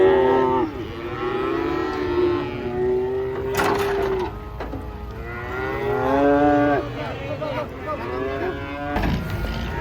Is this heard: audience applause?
no